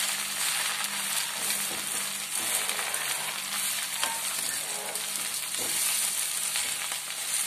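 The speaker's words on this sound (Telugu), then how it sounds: "గోంగూర కొంచెం వేగింది కదా." Gongura leaves fry steadily in a pan for tomato pickle, a continuous close sizzle and crackle with soft stirring scrapes and no talk.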